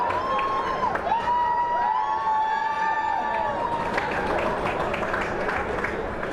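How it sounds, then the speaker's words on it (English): The Pulaski crowd at a high school wrestling individual sectional cheers loudly and continuously, with shouts, whoops and sustained high-pitched yelling just outside, plus some scattered clapping. "we have the Pulaski crowd right outside our broadcast window here, so that's why they're pretty loud"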